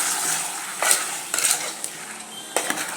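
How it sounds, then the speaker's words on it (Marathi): Mutton is stirred with turmeric and salt in a pan for a Kolhapuri mutton dish: a steady, close sizzle runs under a few scraping and clinking strokes of a spoon against the pan. "अर्धा चमचा हळद घालायची आहे आणि व्यवस्थित मिक्स करून घ्यायचं"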